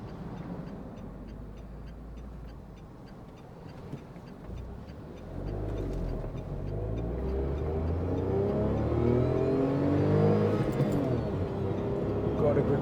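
Tata Tiago car driving in evening traffic, its mid-pitched engine humming steadily and then building louder as it accelerates through the gears, with the engine note rising and staying close throughout.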